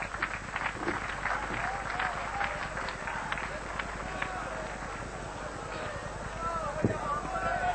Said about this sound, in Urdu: تالیوں سے استقبال۔